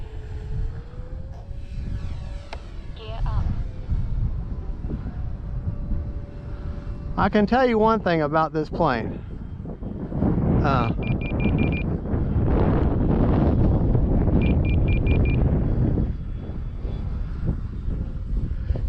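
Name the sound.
Avios King Twin RC airplane flying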